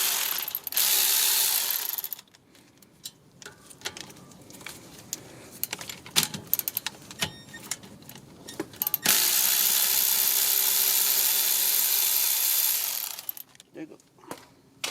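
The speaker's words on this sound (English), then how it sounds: "We need to remove this brake hose bracket, number 10 socket." Ratchet with a 10 mm socket loosening a brake hose bracket on a 2000 Honda Accord: long stretches of fast, dense ratchet clicking, close and loud, broken by a quieter middle section of scattered clicks and clinks.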